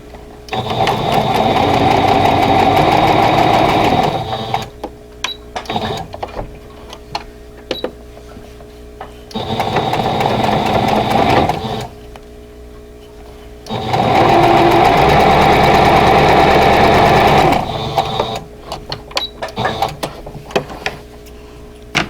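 Electric sewing machine stitching tulip quilt block pieces for a vintage quilt block, running in three loud, steady bursts of fast whirring, separated by quiet pauses with small clicks and handling sounds.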